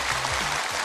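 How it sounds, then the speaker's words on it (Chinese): A studio audience applauds on a Chinese television variety show, a brief burst of dense, continuous clapping filling the hall at steady strength. "让我们掌声请出你的对手"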